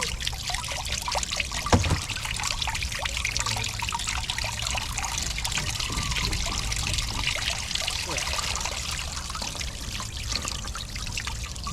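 Water mixed with oil trickles and splashes steadily out of the fill plug of an F-450 truck's axle into a pan, a continuous close dribble, with brief speech faintly over it.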